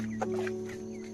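A small flock of Bonraj colour bird chickens kept at a Bangladeshi village home clucks softly in a brief, quiet burst, with a few short calls over steady low background noise.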